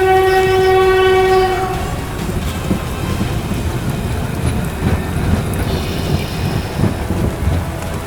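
A train horn blasts loudly at a station at night, then gives way to the steady rumble and clatter of passing rail cars for the rest of the stretch, with no voices.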